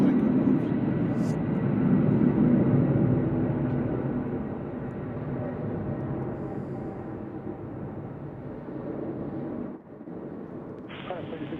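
Cargo aircraft taking off at Louisville UPS Worldport, a broad jet roar that is loudest early and then slowly fades as it climbs away, with voices talking over it.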